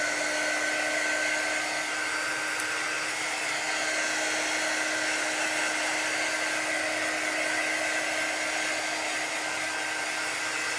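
A hair dryer blowing steadily on a chalk drawing, a loud continuous whir with a constant hum that holds unchanged from start to finish, with no voices over it.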